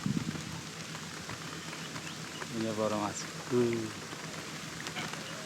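Steady rain hissing onto an open reservoir at a dam during traditional hook fishing, a constant wash of drops with brief voices of people talking over it.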